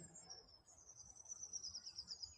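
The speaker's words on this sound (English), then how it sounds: "And you can hear all the other birds alarm calling as that went over" Several small birds give sharp, repeated alarm calls outdoors on a spring day as a predatory bird flies over, a faint continuous high chirping series running through the whole moment.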